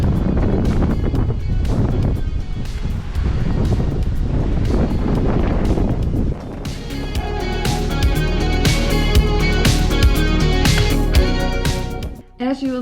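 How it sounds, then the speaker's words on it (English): Strong wind buffets the microphone during a solo bike camping trip near Rotterdam, a loud continuous roar with gusty surges, and a person talks over it. "the sky became gray again and there was so much wind."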